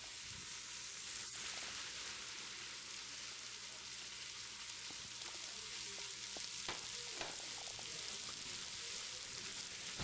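Butter, garlic and sliced red onion sauté in a pot at medium heat, a steady close sizzle and crackle with occasional stirring clicks, no voices.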